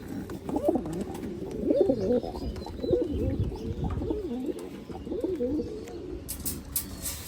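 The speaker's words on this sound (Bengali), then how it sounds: "এটা জাস্ট ভাইয়ের লফটে আসছি জন্য ভাইয়ের কিছু মেন পেয়ার কবুতর দেখালাম আর কি।" Pigeons coo inside a loft, their repeated rolling, throaty calls overlapping close by, with faint rustling and a brief higher clatter near the end.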